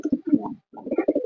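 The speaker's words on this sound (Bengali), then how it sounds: "এখানে আমাদের দেশি কবুতরে কিন্তু তার বেবিকে খাওয়াচ্ছে" A native pigeon coos in low, throaty bursts while feeding its chick, the close rolling calls coming in two groups separated by a brief pause.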